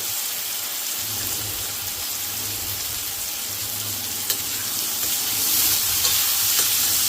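Kashmiri red chili powder dropped into hot oil with dried chilies, a steady bright sizzle and crackle that swells slightly toward the end, no talking.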